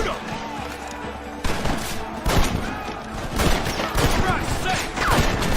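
Rapid gunfire crackles in the Western video game Red Dead Redemption, dense volleys of shots and sharp reports packed together at close range under shouting game characters.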